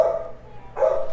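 A few dogs bark at a distance, two short bursts of barking separated by a brief lull, moderately loud with no talking over them.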